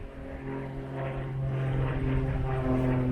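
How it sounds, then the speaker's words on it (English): Propeller airplane flying overhead above a deserted island by the sea, a steady droning hum with a low engine tone that holds evenly and swells slightly louder toward the end. "There's a plane going ahead above me right now."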